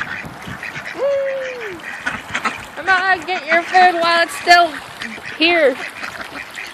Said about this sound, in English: Look at that pretty duck over there with the markings.